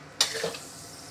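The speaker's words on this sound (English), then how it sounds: "So the pressure cooker is boiling with hot water, so the lamb goes straight into the hot water." Lamb breast dropped into boiling water in a pressure cooker makes a sudden close splash and hiss that quickly fades into a soft, continuing simmer.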